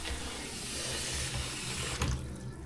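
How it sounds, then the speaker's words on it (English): Water runs steadily from a tap into a newly installed sink, filling it to the overflow with a continuous rushing, splashing sound close by and a slight gurgle near the end. "the water is high enough and it is going into the overflow"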